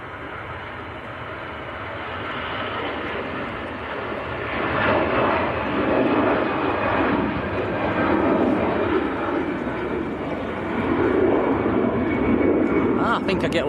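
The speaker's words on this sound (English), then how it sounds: "Lufthansa, A320." Lufthansa Airbus A320 airliner passing at Manchester Airport, a continuous jet engine roar that rises and swells as it goes by, with people talking over it.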